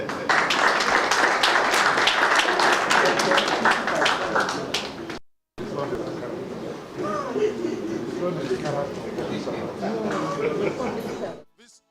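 Audience applause at a Rotary award presentation, rapid crowded clapping for about five seconds, then a brief break followed by voices talking and more scattered room noise.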